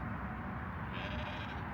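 Sheep bleat out across Devon fields, a single drawn-out bleat carrying from a short distance over a steady outdoor background.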